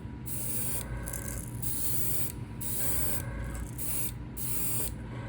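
An airbrush sprays paint onto a 1.5 fire tiger crankbait in close, hissing bursts, each lasting about a second, separated by short pauses.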